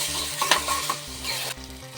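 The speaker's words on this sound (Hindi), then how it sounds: "अब मैं ऐड करूंगी प्याज और हरी मिर्च। अब इसको थोड़ी देर फ्राई कर लेंगे।" Onion and green chilli fry in a hot pan for a veg frankie filling, with a bright sizzle and rhythmic stirring scrapes close up, over a low steady tonal background.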